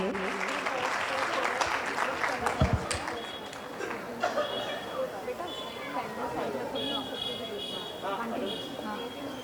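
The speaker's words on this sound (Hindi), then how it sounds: "हमारे फर्स्ट प्राइज विनर के लिए आप सभी जोरदार तालियां बजा दीजिए।" An audience at a prize-giving ceremony claps for the first prize winner. The applause is loudest at the start, then thins into scattered clapping under chatter and talk.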